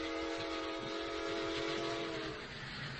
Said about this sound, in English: while that train is going through the station, a shot wouldn't be heard.